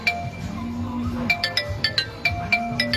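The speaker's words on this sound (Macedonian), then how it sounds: "Некој зазвони на телефонот." A telephone rings in a small studio setting, a repeated electronic ringtone pattern of short bright tones pulsing in regular bursts over a low background hum.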